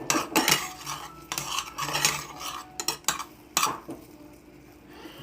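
Cooked shrimp being stirred into sauce in a pan for Cajun shrimp and grits, with wet scraping and clinking of a utensil against metal in irregular bursts, close up, over a low simmering sizzle.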